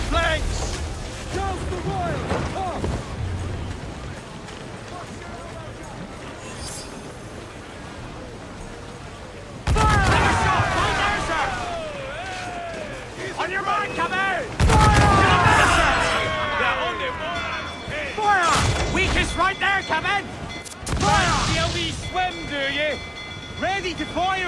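Ship cannon fire in the video game Assassin's Creed Black Flag, several heavy booming blasts spaced over time amid constant sea-battle din, with crew voices shouting over the action.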